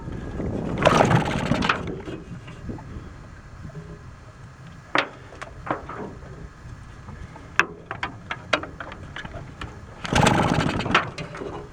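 A 1949 Atlas Royal outboard motor, a barn find, runs on a lake in two short buzzing bursts at the start and end, with scattered knocks and clicks between them, close and loud.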